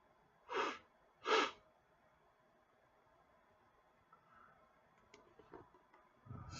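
Two short, quick sniffles close to the microphone, followed by faint quiet rustling and a soft thump at the end.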